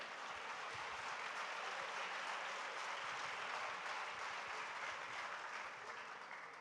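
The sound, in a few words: audience applause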